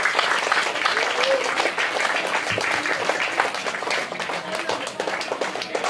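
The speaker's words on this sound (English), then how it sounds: "Let us give a round of applause to our teachers and to our parents as well" Sustained audience applause at a school graduation, a steady wash of clapping from a crowd honoring teachers and parents, continuous for several seconds with faint voices mixed in.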